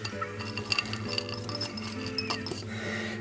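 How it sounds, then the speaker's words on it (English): Dates are stirred into a flour mixture in a bowl, giving repeated light clinks and scrapes of utensil against the bowl over a constant low hum, with no talking. "now we can stir in our dates"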